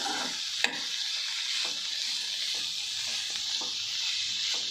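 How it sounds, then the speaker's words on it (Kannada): Bitter gourd (karela) curry fries in a pan with a continuous crackling sizzle and repeated scraping stirs, close and moderately loud, with no talking. "ಇದು ಫ್ರೈ ಆಗ್ತಾ ಇದೆ, ಒಂದು ಸ್ವಲ್ಪ ಚೆನ್ನಾಗಿ ಫ್ರೈ ಆಗಿದೆ."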